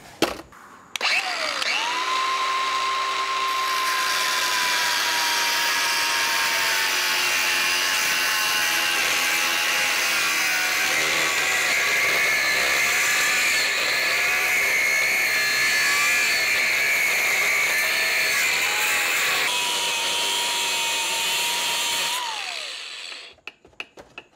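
A power tool whines steadily for about twenty seconds, cutting off the end of a PTO drive shaft for a Bush Hog setup on a Kubota B2601, then winds down and stops.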